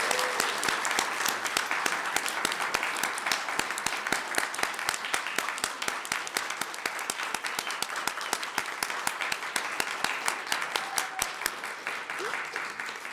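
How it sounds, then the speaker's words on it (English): A commencement audience at a Doctor of Behavioral Health ceremony applauds the graduating class with sustained, dense clapping from many hands that holds steady throughout. "let's give our amazing class a huge round of applause"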